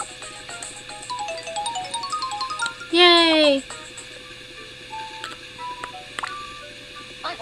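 Electronic phone tones from the video game Tomodachi Life as a character receives a mobile phone: short stepped beeps like dialing, then a rising chirpy ringtone burst, over soft game music with a brief cheer.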